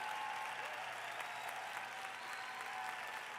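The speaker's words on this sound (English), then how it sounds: "that deserves a big round of applause" Sustained audience applause at a presentation, a dense steady wash of many hands clapping at even loudness throughout, with no voices over it.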